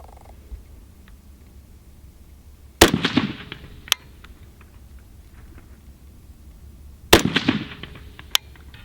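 Two sharp gunshots from a BCM rifle firing reloaded Phoenix ammunition at a range, each a loud crack with a brief echoing tail, several seconds apart, each followed about a second later by a fainter distant impact.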